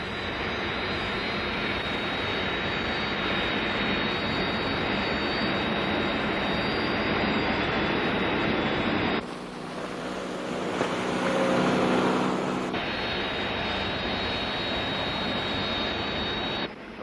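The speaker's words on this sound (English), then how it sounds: "Search aircraft launched" Search aircraft jet engines roar in a steady, loud, continuous drone from a Thunderbirds TV episode, with a brief shift in tone partway through before the even roar resumes.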